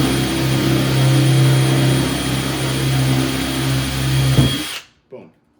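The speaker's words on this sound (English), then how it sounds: "you're going to run this 3/8 bit just through the top layer of the carbon to countersink the head of the screw" A power drill with a 3/8 bit countersinks through the top carbon layer for a screw head, whining loud and steady for several seconds before stopping abruptly, with a brief clunk after.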